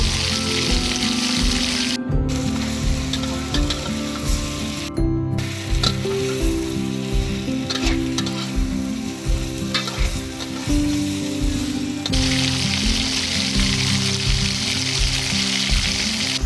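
Fried potatoes tossed into garlic mutton sizzling in a golden kadai, a loud continuous frying hiss with stirring scrapes throughout, briefly cut off twice by sharp gaps, and a low hum beneath.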